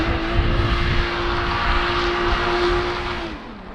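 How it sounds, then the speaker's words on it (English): A Toyota Supra holds a steady high engine drone during a brake stand to warm its tires, the note sustained for a few seconds at moderate loudness before dropping off. "I can just do a brake stand."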